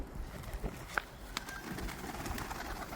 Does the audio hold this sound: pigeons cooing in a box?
yes